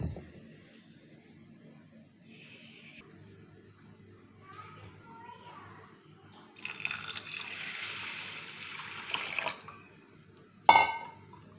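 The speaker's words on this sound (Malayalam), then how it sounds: "ഇത് നമുക്ക് കഴുകി വെള്ളം ഒഴിച്ചിടാം" Water pours and splashes over rice and urad dal in a bowl for a few seconds, with quieter kitchen handling before and a sharp clink near the end.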